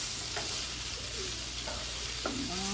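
Vegetables for fried rice frying in a pan, a constant loud sizzle with a few soft spatula scrapes and stirs, close up with no talking.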